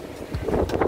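Wind gusting across Barra da Tijuca beach in Rio de Janeiro, a steady low roar buffeting the microphone that swells slightly over a brief moment, with no voices.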